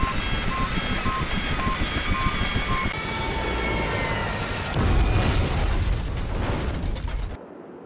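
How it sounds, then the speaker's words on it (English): Helicopter in the video game IGI going down, with a repeating warning beep over a rotor and engine drone, then a loud crash and explosion burst before an abrupt cut to quiet. "We're gonna crash!"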